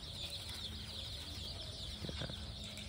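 Local chickens and ten-day-old chicks cluck and cheep while eating grain on a farm, a busy continuous chorus of small calls up close.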